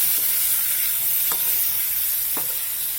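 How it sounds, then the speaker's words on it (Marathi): Chopped tomatoes sizzle loudly in a hot frying pan for a quick tomato chutney-style vegetable dish, the steady hiss broken by a few sharp scrapes of the stirring spoon against the pan, close up and with no voices. "त्यानंतर आपण त्यात कापलेले टोमॅटो घालणार आहोत"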